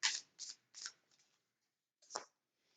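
Oracle cards being shuffled give several quick, crisp riffling bursts, close and fairly soft, with short pauses between them.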